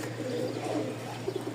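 Pigeons coo softly and steadily in a loft, low murmuring calls close by over a constant background hum.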